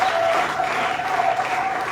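A church congregation applauding, a dense, loud, continuous wash of clapping from many hands filling the space, with no break.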